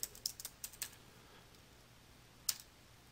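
A short run of computer keyboard keystrokes, quick and close, followed by a pause and one final isolated key press.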